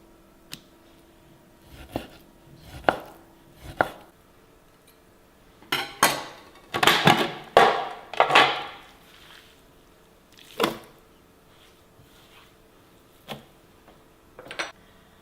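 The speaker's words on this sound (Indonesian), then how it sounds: "Aku akan menggiling daging sapi" Irregular clattering and chopping knocks of beef being chopped to mince, scattered at first then in a quick burst of strikes, close by with no talking.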